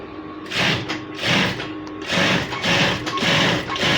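A sewing machine stitches cloth in short bursts, its motor whirring and needle clattering close by, with brief pauses between runs.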